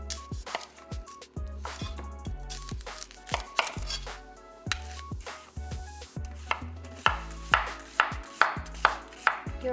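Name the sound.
chopping onion with a Batman knife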